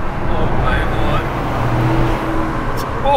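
A Toyota GR Corolla Morizo drives and handles on the road, its engine and road noise a steady close rumble inside the cabin, with people talking over it.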